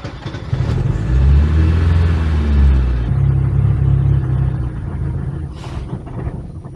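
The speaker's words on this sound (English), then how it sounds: "The engine won't maintain idle speed." A Porsche engine struggling to hold idle, its low rumbling drone rising and sagging unevenly, loud and close with no voices.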